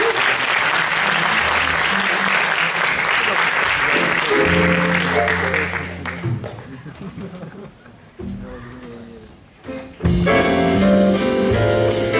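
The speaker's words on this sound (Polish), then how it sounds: "Raz jeszcze brawa dla Krysi." Loud, dense applause from a jazz concert audience fills the first half. It fades while voices and tonal sounds emerge, then a bright burst of sound returns near the end.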